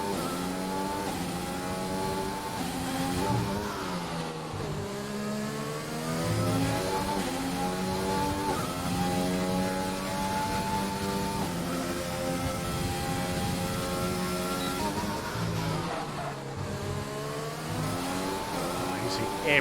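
Race car engines howl around the Marina Bay Street Circuit in Singapore in a PC racing game, rising and falling through gear changes with tire squeal, while a commentator talks over the steady engine whine.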